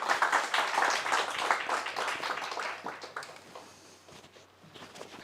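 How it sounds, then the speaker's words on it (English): An audience at a conference panel on Afghanistan claps for the speakers, a fairly small room of distinct individual claps that thin out and fade toward the end. "hope that you all give a round of applause for the speakers"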